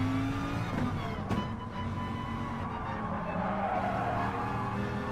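A Lamborghini race car in GT Sport at Fuji gives off a steady, loud engine drone with a sustained whine, under the mix of other cars racing nearby. A brief tire squeal sounds early on.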